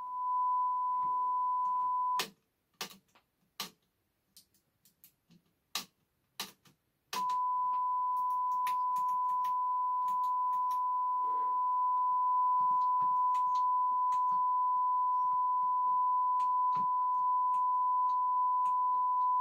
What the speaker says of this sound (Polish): No i odpaliłem sygnał 1 kHz.